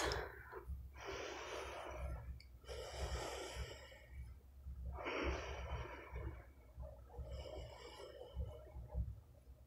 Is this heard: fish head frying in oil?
no